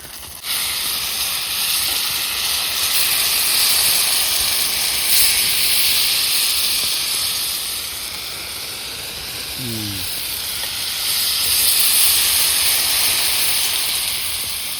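Thalipeeth flatbread sizzling on a hot pan, a steady broad hiss that holds for the whole stretch, swelling and easing slightly, with no talk over it.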